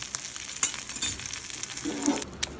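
Pomfret fillets wrapped in turmeric leaves fry in a pan, giving a soft, steady sizzle with a few faint clinks of utensils; no one speaks.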